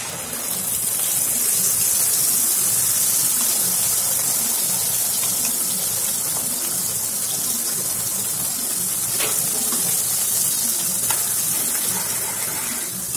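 Spice paste for egg curry hits hot oil in the pan used to fry the eggs, producing a loud, continuous, hissing sizzle that holds steady for the whole stretch.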